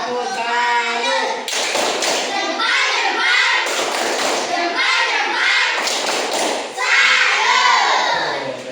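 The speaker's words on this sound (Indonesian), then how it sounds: "Ayo sama-sama. Tepuk tangan." A classroom crowd of teachers and students claps in unison, a dense rhythmic patter of hand taps and thumps that swells and dips for several seconds with excited voices and shouting mixed in.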